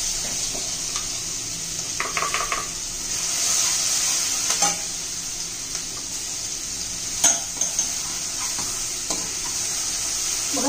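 Ground garlic, chili, coriander and cumin paste frying in hot oil, a steady close sizzle with occasional scrapes and taps of a spoon stirring the pan.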